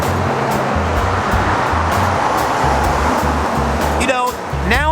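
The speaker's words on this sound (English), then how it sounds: "It definitely is extremely loud out here with all the 18-wheeler trucks and traffic during the holiday season." Holiday traffic and 18-wheeler trucks at a gas station make a loud, constant roadway roar with low diesel rumble pulsing underneath, while someone talks over it close by.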